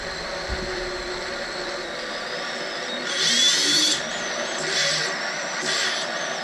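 FPV freestyle drone motors, set up for 3D reversible thrust, whine up in short bursts, a strong high whir swelling for about a second, then two briefer spins over a steady background hum.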